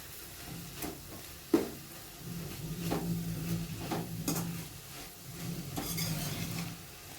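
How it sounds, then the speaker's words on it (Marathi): Dried shrimp stirred gently with salt and kokum in a pan, with soft intermittent scraping and clinking strokes over a faint, low hiss. "एकदम हलक्या हाताने त्याला मिक्स करून घ्यायचं आहे"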